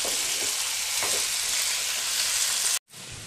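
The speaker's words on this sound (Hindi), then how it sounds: "मीडियम फ्लेम पर 2-3 मिनट हम फ्राई करेंगे आलूओं को" Potatoes fry in a pan over a medium gas flame, making a steady, close sizzle. It cuts off abruptly near the end, then resumes more quietly.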